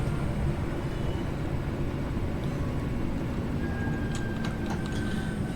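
A Northern Class 323 electric train brakes in Train Sim World 3, a steady loud rumble of wheels and motors with faint squealing and clicking brake tones appearing toward the end.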